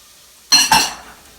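Chopped carrots, celery, tomatoes and lentils tumbling into a soup pot, a close double thump and clatter followed by a short fading rustle, with no talking.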